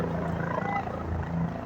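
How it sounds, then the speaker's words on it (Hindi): A helicopter arrives at the Kedarnath helipad in the Himalayan mountains, producing a steady, loud rotor and engine roar that stays even and constant throughout. "हेलीकॉप्टर आते हुए"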